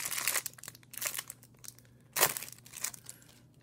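The foil wrapper of an NHL draft day hockey card promo pack is torn open and crinkled close to the mic, in a few rustling bursts with one sharp tear partway through.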